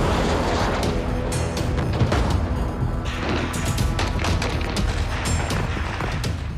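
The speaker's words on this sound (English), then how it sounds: "I can hear the gunfire going off in the background." Sharp bangs of gunfire crack repeatedly in the distance over a constant noisy background roar, irregular and overlapping.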